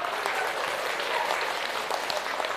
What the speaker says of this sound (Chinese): 给鼓鼓掌